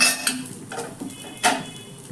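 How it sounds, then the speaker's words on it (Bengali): A pan lid lifted off cookware, a few short metallic clinks and knocks close by, brief and distinct against a quiet background. "এবার 2 মিনিটের পর ঢাকনাটা সরিয়ে নিব।"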